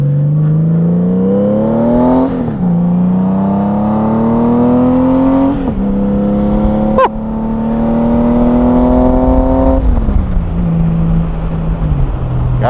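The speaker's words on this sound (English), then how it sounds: "what you're listening to there on some throttle therapy is the Shark Road exhaust for the Generation 6 Honda Goldwing" A deep, throaty Shark Road aftermarket exhaust on a sixth-generation Honda Goldwing motorcycle revs up repeatedly, with pitch climbing and dropping back between blips, loud and close.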